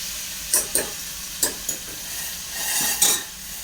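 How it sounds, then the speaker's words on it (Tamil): Tomatoes sizzle in a hot pan for a chicken kuzhambu while a spoon stirs them in a few quick scraping strokes, with a steady frying hiss underneath; no one speaks. "இப்போ நம்ம தக்காளி போட்டிருக்கோம் இந்த தக்காளி நல்லா வதங்கட்டும்"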